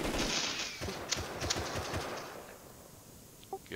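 Rapid gunfire from a firefight in the survival video game Rust, a dense burst of repeated sharp shots early on that thins out and fades, loud at first then a few scattered distant pops near the end.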